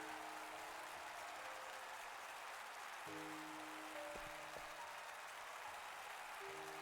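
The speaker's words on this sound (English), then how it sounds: "the pair left the stage, to the sound of thundering applause" Game audience in Octopath Traveler 2 applauds two dancers leaving the stage, a quiet, even hiss of clapping under faint steady musical tones.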